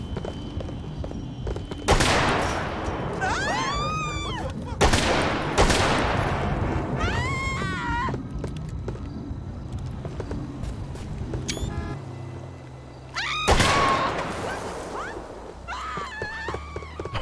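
Pistol gunfire in GTA FiveM comes in three loud bursts of sharp shots, each followed by a ringing tail, with engine and background game noise running between the bursts.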